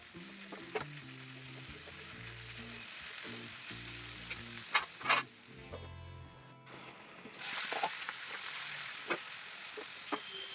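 Eggplant and broad bean pieces frying with onion in a pan, a quiet steady sizzle with intermittent stirring clatter and a brief scraping rhythm, no voices.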